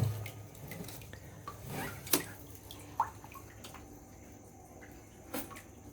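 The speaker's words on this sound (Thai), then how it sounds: "นี่น้ำหยดเด้อพี่น้องเด้อน้ำหยดเด้อครับคุณ" Water drips sparsely into a golden apple snail breeding setup, a few soft, isolated drops landing seconds apart over a faint, steady background hum.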